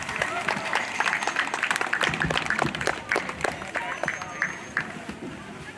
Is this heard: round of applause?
yes